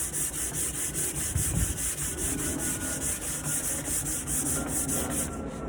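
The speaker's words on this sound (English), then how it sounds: "I'm gonna start just doing some sanding so that you can see how I do it" Sandpaper rubs across a wooden night table in steady, rapid back-and-forth strokes, close and even throughout, with no talk.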